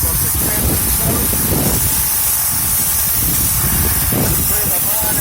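A Greenworks Pro 2200 PSI pressure washer sprays a high-pressure rinse, making a constant loud, close hiss with faint thumps and a voice murmuring underneath.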